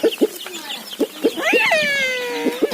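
Chickens on a small home poultry farm make short, close clucks in a loose rhythm, followed by a longer rising and falling cackle, with no talk over them.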